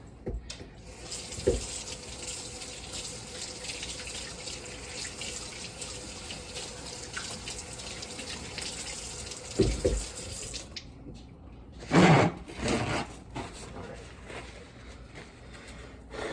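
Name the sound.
tap water running while washing hands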